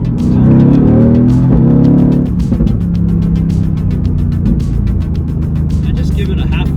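Mercedes-AMG GT R front-mounted engine revving to mid RPM at half throttle and shifting, a loud rising drone that drops and settles, with people talking over it throughout.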